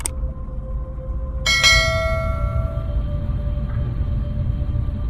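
A notification bell sound effect gives a clear chime that rings out and decays, then a second, brighter strike follows about a second and a half later and lingers over a low background rumble.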